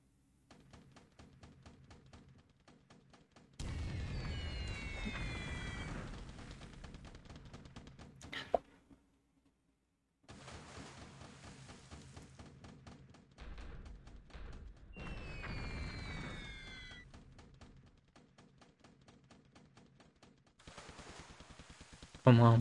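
Bombs bursting and gunfire in the War in the Pacific: AE naval air battle against an aircraft carrier, coming as loud rumbling bursts and rapid rattles in two long stretches, broken by brief silences and a sharp thump at the end.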